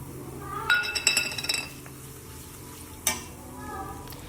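Whole coriander seeds, turmeric and salt being stirred in a pan for homemade mixture namkeen, with a burst of metallic clinks and scraping early on, another sharp clink later, and a soft frying hiss underneath.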